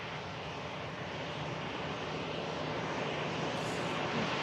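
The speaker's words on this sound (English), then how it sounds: "Gulf Air Dreamliner now pinging up as this EasyJet vacates in front of us." An EasyJet airliner taxies off the runway at Manchester Airport, its jet engines producing a steady, broadband roar that stays loud and constant throughout, with no talk.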